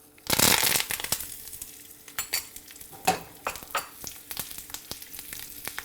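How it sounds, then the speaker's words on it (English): Spices fry in hot oil for South Indian tomato rasam, opening with a loud burst of crackling sizzle that settles into quieter popping and intermittent clinks of stirring against the pan. "It doesn't take so much time to fry all this."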